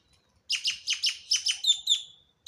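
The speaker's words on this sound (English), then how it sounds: "Such a pretty bird." A pet bird chirps in a quick run of bright, repeated calls, about a dozen sharp notes close by in the first two seconds, clear and alone without talk.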